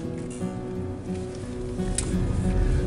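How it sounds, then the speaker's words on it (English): Steady rain patters on a rainy day, a continuous close wash of drops with a low rumble building underneath. "This is a rainy day."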